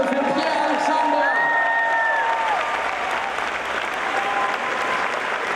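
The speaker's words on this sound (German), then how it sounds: "Nochmal großen Applaus hier" Sustained audience applause with some cheering fills a live event after a costumed performer is introduced, dense and steady throughout, with a host's voice briefly audible over it.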